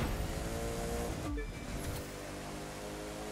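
Car engine in The Crew 2 racing game, a steady loud drone that stays continuous throughout, easing slightly in level toward the end, with no talking over it.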